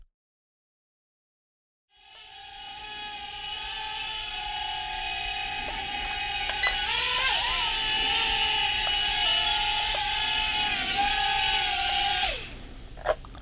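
A cheap six-dollar toy drone, a JJRC X12 per the title, starts up after two seconds of silence and whirs steadily with a high, close, buzzing rotor whine that holds level before cutting off near the end, no talking.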